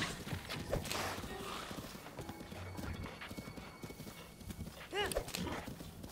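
Horse hooves clip-clop steadily through a video game scene, with a sharp whinny near the end, heard beneath someone talking over the game.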